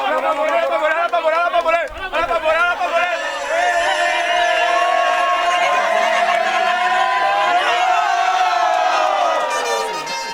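A large stadium crowd at the Ngwa Ngwa festival roars with continuous cheering, whoops and chatter, loud and sustained throughout with no distinct clapping standing out.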